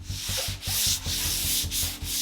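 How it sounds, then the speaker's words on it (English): Light hand sanding of primed furniture: rhythmic back-and-forth rasping strokes, steady and close, with no voices. "I went ahead and gave everything a really light sanding."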